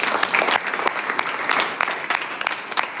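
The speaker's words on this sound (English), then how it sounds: "A huge round of applause for them." A university audience at a live event gives steady, dense applause, many hands clapping together at a lively, even pace throughout.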